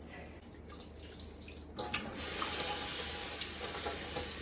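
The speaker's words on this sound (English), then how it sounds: "Rinsing off the extra alum now." Running water splashes steadily over dyed fabric as excess alum is rinsed out, starting quiet and then rising into a louder, continuous close-up flow from about two seconds on.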